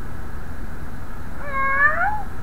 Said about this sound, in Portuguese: Posso escutar ele? Gato aqui.